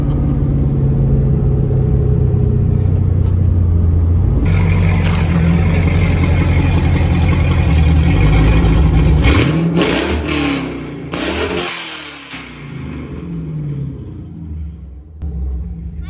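A Prius swapped with a 5.3L V8 and fitted with exhaust cut-outs revs hard, its deep, loud rumbling roar held steady for several seconds before dropping into rougher, uneven idling bursts.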